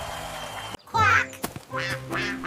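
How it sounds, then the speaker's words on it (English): A cartoon duck gives two loud, nasal quacks over a bright children's New Year song with music playing throughout. "Quack!"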